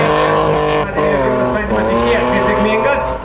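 A 2.8-litre, 193-horsepower BMW drift car competes at a Latvian Drift Series event. Its engine roars loudly and steadily with rising and falling revs, and a voice may talk over it.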